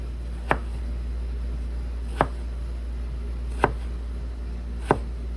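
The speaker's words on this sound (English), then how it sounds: "And you can always cut your julienne into the 2-inch long pieces that you will need afterwards." A knife cuts vegetables into julienne strips on a board, giving four sharp, evenly spaced chops about a second and a half apart over a steady low hum, with no talk.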